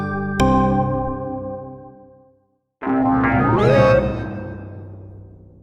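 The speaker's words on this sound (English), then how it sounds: "The noise you just heard is the sound of the interrobang." A synthetic sound effect standing for the interrobang punctuation mark: a bright struck chime fading out, a brief silence, then a warbling tone that bends upward and trails away.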